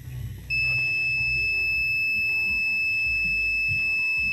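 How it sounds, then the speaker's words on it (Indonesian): A CODY 1502D digital DC bench power supply gives a sustained, steady high-pitched beep when its short-circuit protection trips. The loud tone holds unbroken over a low background hum. "seperti itu ya bro untuk suara saat si power supply-nya konslet ya bro"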